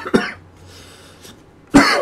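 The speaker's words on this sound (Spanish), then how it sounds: "me da la tos" Two harsh, close coughs about a second and a half apart, with a faint throat noise between them over a quiet background.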